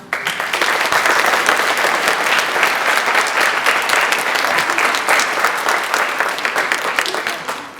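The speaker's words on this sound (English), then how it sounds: "they get another round of applause" A concert audience applauds a small middle and high school choir group in Indiana, a dense, steady wash of many hands clapping that holds strong throughout before thinning slightly at the end.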